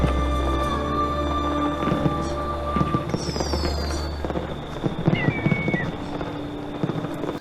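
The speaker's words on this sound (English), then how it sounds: "you get this lovely fireworks display in Italy at night" Night fireworks display over an Italian town in the Assassin's Creed Nexus video game: a steady run of bangs and crackles over a constant ambient bed, with faint hoof-like clopping mixed in.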